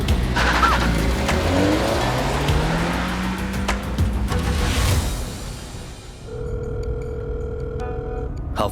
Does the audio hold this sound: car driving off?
yes